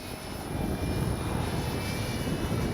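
E-flite Commander RC plane flying on a windy day during its maiden flight, a steady whining electric motor drone holding at a distance with wind noise, no talk.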